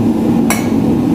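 A single sharp metallic hammer strike rings out on a steel leaf being forged, standing out against a loud, steady background hum.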